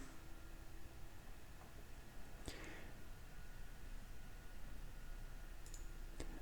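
A computer mouse gives two faint, crisp clicks a few seconds apart over a low steady hiss.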